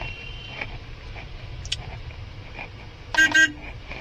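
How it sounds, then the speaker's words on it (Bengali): A car horn gives two short honks close by, coming from a new car moving slowly away in first gear through a congested street, with low road and engine rumble underneath. "আস্তে আস্তে করে হর্ন দিয়ে দিলাম এখানে"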